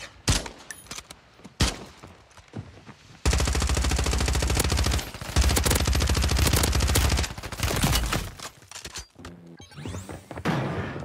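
Sniper rifle fire and heavy gunfire in Warzone 3, with a few sharp shots early on before a long, loud, continuous stretch of rapid firing and impacts, then quieter scattered bangs.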